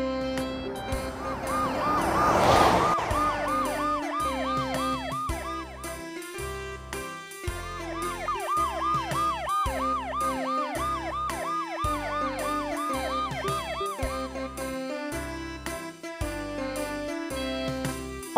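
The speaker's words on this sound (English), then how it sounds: "Police car." A toy police car siren wails in a repeating warbling pattern over a bouncy electronic tune, with a noisy burst near the start.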